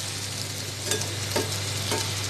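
Steady sizzling of potato, onion, ginger and garlic frying in a pan, with a low hum underneath and a few scraping stirs at regular intervals.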